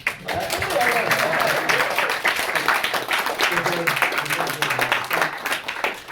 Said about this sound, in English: we should just give a round of applause for Mackenzie